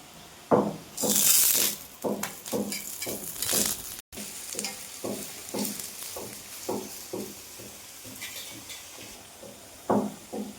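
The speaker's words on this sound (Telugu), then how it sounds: "ఆయిల్ బాగా వేడెక్కిన తర్వాత ఆయిల్లో వేసుకోవాలి" A breakfast snack deep-fried in a pan of hot oil sizzles close by, with bursts of bubbling and spattering and stirring or clinking sounds at irregular intervals.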